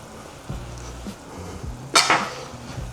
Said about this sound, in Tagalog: So haluin lang natin siya guys.